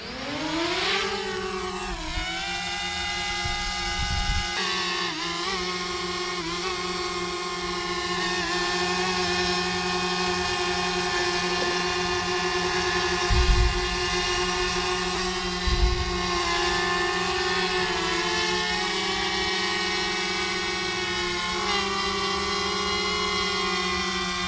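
A DJI Mavic Mini drone spins up and takes off, its steady high-pitched multi-tone propeller whine holding close and loud throughout, with brief low booms of distant artillery from Fort Bragg thudding under it.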